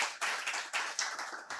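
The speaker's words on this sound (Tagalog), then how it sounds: "Pwede ba isang malakas na palakpak para kay Lord dyan?" Congregation in a church clapping together, a dense burst of hand claps that pulses in several uneven waves across under two seconds, fairly close and steady with no voices.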